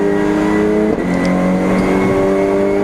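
Race car accelerating hard out of a corner at Donington Park's GP circuit: a loud, close engine roar climbing steadily in pitch through the gears, with a brief dip at a shift, continuous throughout.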